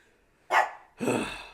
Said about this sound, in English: This beast is programmed to just bark at 2:20.